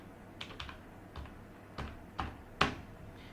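Sparse keystrokes on a computer keyboard while entering a name and pressing Alt+Enter in an Excel spreadsheet, a handful of separate clicks with the spacebar and Enter ringing out, close and quiet.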